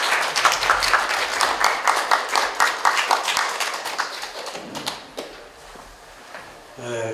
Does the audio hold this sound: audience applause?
yes